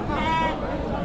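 A short, wavering sheep bleat rings out close by at a sheep and goat market in Shirur, with a murmur of people and other animal noise continuing underneath.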